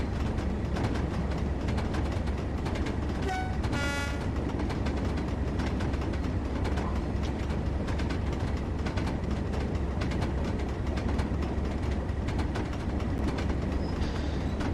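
A Class 37 diesel locomotive in Train Sim World hauls a coal train on the Tees Valley Line, giving a steady, loud, heavy rumble of engine and rolling wagons throughout, with a brief whistling tone near the start.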